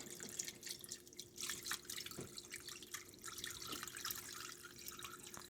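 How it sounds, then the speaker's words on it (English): Thick sauce pours over a pork pot roast in a quiet, close trickle, with small splashes, drips and a faint steady hum underneath. "I'm going to pour that directly over the pork."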